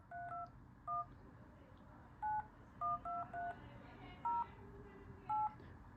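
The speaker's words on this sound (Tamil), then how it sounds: "கால்ஸுக்கு டயல் பேட் போகிறேன், கால்ஸுக்கு என் நம்பர் நான் டயல் பண்ணுறேன்" Touch-tone keypad beeps from the dial pad on a Fire-Boltt Dream 4G LTE Android smartwatch, about nine short two-tone chirps entered at an uneven pace over a quiet, faintly noisy background.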